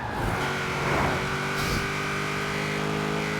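A 3-litre car engine in Forza Horizon 4 revs hard with a steady, droning high-rpm whine that climbs and then holds near its redline, loud and up close.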